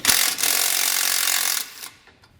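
A bumper bracket bolt is removed with a 16mm socket on a 2021 Jeep Gladiator, giving a loud, steady whirring rasp for about a second and a half before it stops.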